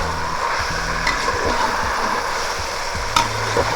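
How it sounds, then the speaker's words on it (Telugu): Vegetables and masala frying in oil for vegetable pulao are stirred steadily, a close, continuous sizzle with scraping ladle strokes and a sharp clink near the end. "ఇప్పుడు దీన్ని మనము బాగా తిప్పుకుందామండి."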